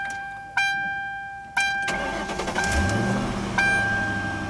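A 2000 Ford Crown Victoria P71 Police Interceptor chimes twice as the key turns, then the starter cranks and the engine catches and settles into a low idle, close by with no talking.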